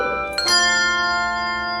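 Handbells struck together in a bell choir rehearsal, a bright chord ringing out and sustaining with a long, slowly fading shimmer of overtones.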